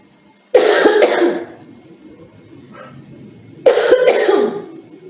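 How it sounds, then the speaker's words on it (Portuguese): Two harsh, loud coughs a few seconds apart from one person nearby, with faint quiet between them. "vou tossir"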